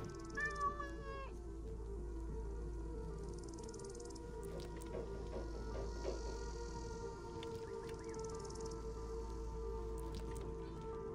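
A cat gives a brief meow early on in Assassin's Creed Origins, faint and short over a steady low game ambience hum.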